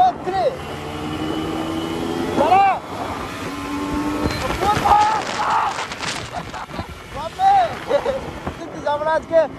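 Yamaha RX100 and Yamaha Fascino motorbikes racing, revving engines rising and falling in pitch with several whining sweeps and passing roars, voices shouting over them.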